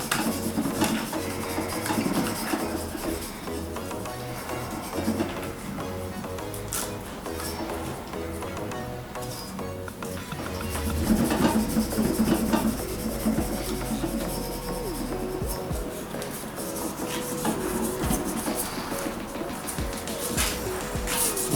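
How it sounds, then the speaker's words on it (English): Rubbing and scrubbing of sulfurated potash patina onto a bronze sculpture, a steady rasping friction that runs throughout at moderate level with faint background clatter and no speech. "Scrub it in, scrub it in."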